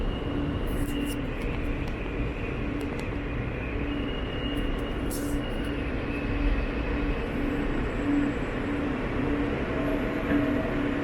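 A New York City subway train idles at West 4th Street–Washington Square station, giving a steady rumbling hum with a faint tonal whine and occasional higher metallic squeaks, moderately distant with no voices.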